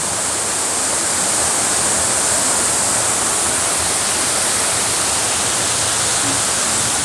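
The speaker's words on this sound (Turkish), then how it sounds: "Şelale olaraksa işte bu." The steady, loud rush of Yaka Waterfall, a narrow waterfall in Seydikemer, Muğla, Turkey, fills the whole stretch: a constant broadband roar with no pauses or voices.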